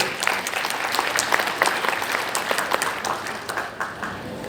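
Audience applause at a Kraton Surakarta (Solo) palace classical bridal attire event, a dense steady wash of many hands clapping, continuous and fairly loud throughout with no speech.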